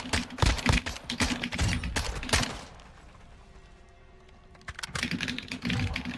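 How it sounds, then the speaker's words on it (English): Loud, rapid computer keyboard clatter during a Modern Warfare 2 match, dense bursts of clicking that pause for about two seconds before resuming. "Your keyboard is so loud."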